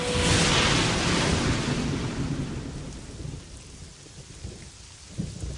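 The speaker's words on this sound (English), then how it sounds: "Thunder shook its bark. Rain weakened its roots." A thunderstorm: a deep roll of thunder rumbles loudly at the start and fades, with steady heavy rain hissing throughout.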